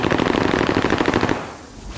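Rapid bursts of automatic gunfire in a shooter video game, loud and close, a dense rattling stream that breaks off abruptly and leaves quieter background noise, with no talk.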